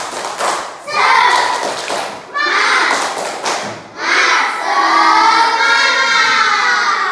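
A class of children claps a rhythmic group clapping chant, loud and close, with bursts of synchronized hand claps mixed with children's voices and a teacher talking.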